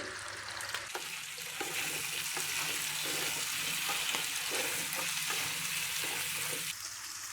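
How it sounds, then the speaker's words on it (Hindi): Cubed potatoes and eggplant fry in a pan with a steady, close hiss and sizzle, broken by occasional stirring scrapes, with no talking. "दोनों चीजों को हम अच्छे से फ्राई करेंगे, तकरीबन 5 से 7 मिनट।"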